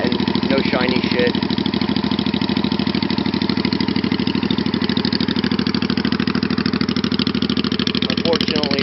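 A Honda Shadow VT500 bobber motorcycle idles steadily through its aftermarket exhaust pipes, a deep, throaty, even pulsing that stays loud and close the whole time, with a few faint background sounds near the end.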